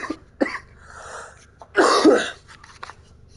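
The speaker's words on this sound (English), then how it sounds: "I'm still getting over this cough." Someone with a lingering cough coughs several times in short, sharp bursts, with a louder, rougher fit in the middle and softer throat sounds after, close and loud, while the Warframe game plays quietly underneath.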